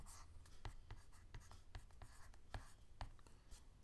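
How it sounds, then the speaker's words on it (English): Pen or pencil strokes on paper while math notes are handwritten, a run of short scratchy marks in an irregular rhythm, close and fairly quiet, with no talking. "So let's write that in."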